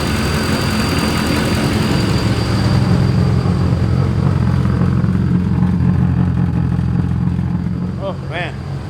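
A Honda KRZ motorcycle engine idling steadily in a closed garage, a loud, continuous low rumble that holds even before fading slightly near the end, with a brief voice or whistle at the close.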